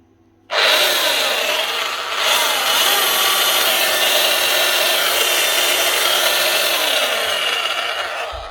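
A Makita HR3210C rotary hammer drill, bought at a tool auction, starts abruptly and runs continuously with a loud, close, gritty whir and a slightly geary rattle, no voices.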